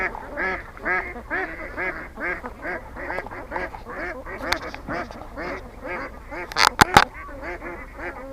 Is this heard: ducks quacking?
yes